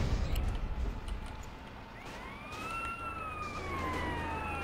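Police siren in GTA San Andreas Definitive Edition, a rising and falling electronic wail that sweeps steadily over a low engine rumble and background game noise, without talk.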